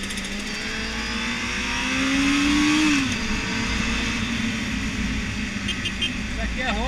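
A Honda Hornet 600 motorcycle engine revs and climbs in pitch, then settles into a steady ride with wind noise, fairly close.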